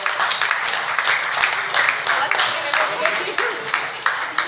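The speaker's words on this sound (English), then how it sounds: "you deserve a big hand, big applause" An audience at a conference plenary session claps for volunteers and a team, irregular close-up bursts of clapping that rise and fall in waves.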